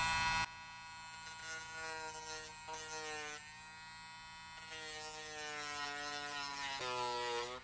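A small handheld rotary tool grinds down scale-model lights with a high, steady electric whine that shifts pitch as the bit bears on the part, close up and with no speech.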